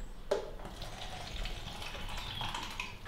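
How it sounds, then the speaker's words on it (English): Room-temperature tap water runs steadily from a kitchen faucet, a continuous close splashing stream with a sharp start, holding evenly throughout with no voices. "room temperature tap water."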